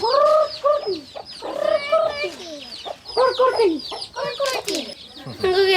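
A grandfather imitates a rooster crowing with his voice, repeated clucking and crowing calls in several bursts, close and fairly loud, with other voices mixed in.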